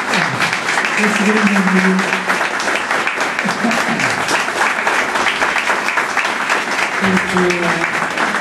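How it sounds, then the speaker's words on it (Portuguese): An audience at a commemorative session honouring a neurosurgeon and professor claps loudly and steadily throughout, with a voice speaking briefly over the applause. "Eu peço uma grande salva de palmas para esse grande homem."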